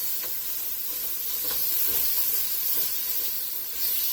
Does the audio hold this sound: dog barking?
no